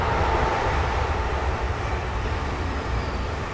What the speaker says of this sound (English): That was my train, I totally missed it.